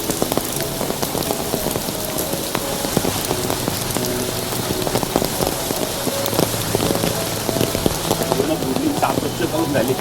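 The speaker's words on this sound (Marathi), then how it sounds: "पण पाऊस अजून जोरात पडतो" Heavy first monsoon rain falling in Mumbai outside an open window in the morning, a dense close patter of drops on surfaces, loud and continuous.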